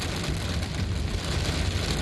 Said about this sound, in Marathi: इकडे वांद्रे वरळी सी लिंकवर पावसाला सुरुवात झालेली आहे।